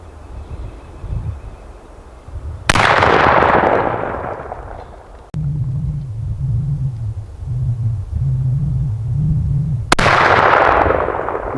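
Rifle shots ring out on an elk hunt in Colorado, two loud sharp blasts several seconds apart, each followed by a long rolling echo, with wind and a low engine-like drone between them.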